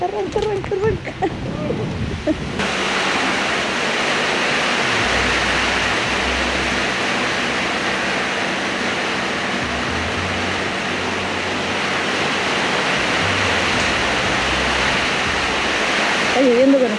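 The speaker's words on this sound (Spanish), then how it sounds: "Está lloviendo con escándalo." Heavy tropical rain pours steadily at a viewpoint on Phi Phi island, Thailand, a dense, loud hiss that holds for most of the stretch, with brief voices and movement at the start and end.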